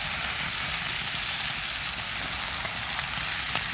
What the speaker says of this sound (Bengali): এই যে একদম সুন্দর করে মশলা কষায় নিচ্ছি